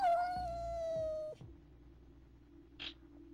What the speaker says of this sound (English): I'm playing with this cat.